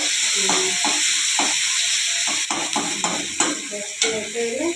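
Brinjal (eggplant) fries in a pan, a steady bright sizzle broken by repeated scraping stirs and clinks of the utensil, close and fairly loud throughout.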